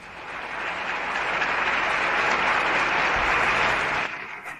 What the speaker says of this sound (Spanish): Aplausos sostenidos mientras Yasser Arafat entra al Salón de la Asamblea General de las Naciones Unidas en Ginebra